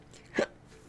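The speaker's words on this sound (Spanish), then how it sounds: "Y el hipo vuelve." A single short, close hiccup pops out against quiet room tone, with no talk around it.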